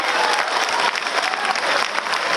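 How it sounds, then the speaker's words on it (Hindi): A crowd at a poetry gathering of shayars breaks into loud, thick applause, a steady wash of many hands clapping without pause. "एक बार आप अपने लिए जोरदार तालियां बजाइए"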